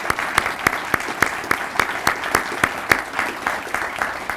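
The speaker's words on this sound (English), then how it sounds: "if we can please have a round of applause for all the Crime Fighter of the Year" At a police awards ceremony for Crime Fighter of the Year recipients, a small group claps in a steady, sparse rhythm, individual hand claps standing out clearly over a quiet room.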